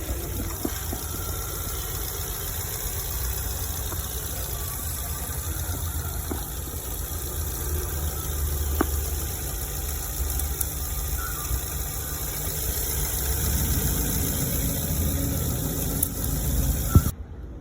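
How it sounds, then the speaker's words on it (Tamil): A 2010 Chevrolet Beat LT petrol car engine idling: a steady, low hum, even throughout, close by and unchanging, with no voices over it. "வண்டியோட இன்ஜின் ஸ்டார்ட் பண்ணி காட்டுறேன் பாருங்கள்."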